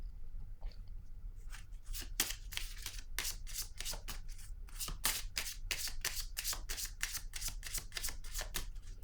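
Tarot cards are shuffled by hand in a rapid, steady series of crisp riffling bursts, close and fairly quiet, with no one speaking.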